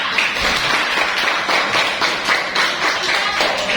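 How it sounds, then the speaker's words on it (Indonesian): Classroom students applaud a student group with a brisk, continuous patter of many hands clapping nearby, in a fairly even rhythm that holds for several seconds. "Berikan aplaus untuk kelompok 4."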